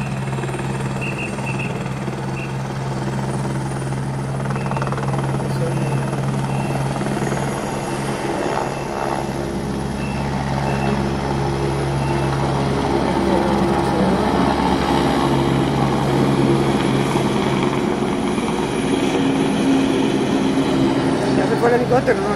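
A steady, loud helicopter drone with a low rotor hum fills the whole stretch, with faint voices and crowd noise mixed underneath, at a Vuelta a España cycling stage finish.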